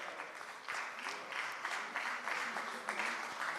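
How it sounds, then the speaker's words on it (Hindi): Audience applause at a Faridabad news-channel convention event honouring city sanitation contributors, steady crowd clapping at moderate distance with a voice speaking over it. "तालियां रुकनी नहीं चाहिए।"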